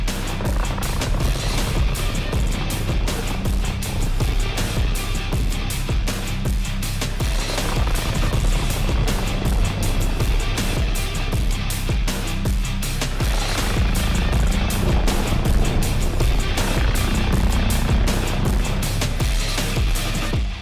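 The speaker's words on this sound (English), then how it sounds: "So we use the MBB BO-105 helicopter." An MBB BO-105 helicopter with a rigid rotor flies aerobatics, giving a loud, continuous rotor and engine roar with rapid blade chop that holds steady throughout.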